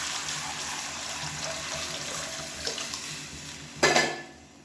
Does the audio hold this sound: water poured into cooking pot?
yes